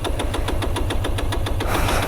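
A Bajaj Pulsar 220F motorcycle cranks under the starter, its engine turning over in a rapid, even series of close, loud knocks without catching, then breaking into a rougher rush at the end.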